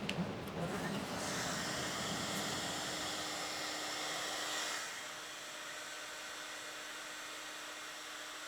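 Heat gun blowing steadily on vinyl wrap over a 2024 Tesla Model 3 bonnet, a close, loud airy roar with a faint whine that drops in level partway through and continues more quietly.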